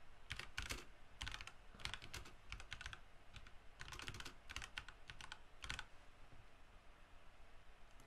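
Computer keyboard typed in quick irregular bursts of clicking keystrokes over a steady faint background hiss, close and fairly quiet, with no voices.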